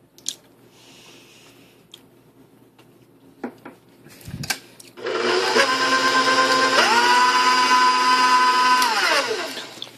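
Electric mixer beating chocolate chip cookie dough, a loud steady whirring drone that starts abruptly after some scraping and clatter, shifts pitch briefly and then winds down.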